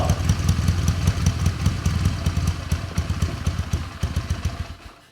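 A 1981 Honda CM200T TwinStar motorcycle engine idles close by with a steady, rapid lumpy putter and light mechanical clatter, fading slightly at the very end.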